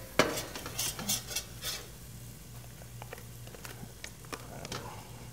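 Barbecue shrimp seasoned with paprika being stirred in a pan, with soft scraping and light clinks of a utensil against the pan over a faint sizzle and low steady background hum.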